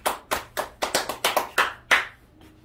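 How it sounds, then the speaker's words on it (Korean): Short bursts of hand clapping from a church congregation, about nine distinct claps in an uneven rhythm before fading into quiet. "우리 큰 박수 주세요."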